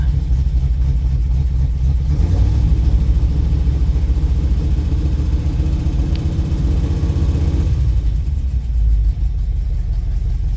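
A 1969 Ford F-250 engine idles after being started, warming up with a steady, loud, close rumble and no throttle, a slight shift in tone partway through.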